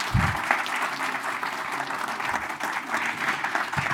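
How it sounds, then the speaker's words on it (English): An audience at a product roadmap presentation applauds steadily, a dense wash of clapping filling the room for several seconds with a few louder claps near the start. "you interrupted the applause there"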